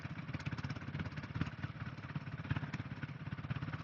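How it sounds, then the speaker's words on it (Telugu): The radiator cooling fan of a motorcycle runs after the engine has overheated from long riding in first and second gear in the Araku ghats. It makes a steady, fluttering mechanical whir with a rapid pulsing beat and no talking. "రేడియేటర్ ఫ్యాన్ ఆన్ అయిపోయింది."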